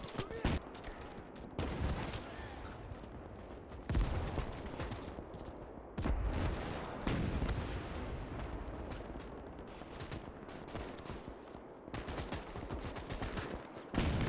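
A hip-fired MG42 machine gun rattles in the Gates of Hell war game, sustained loud bursts of rapid fire amid a dense battlefield roar with other gunfire and distant blasts, and a voice speaking at times.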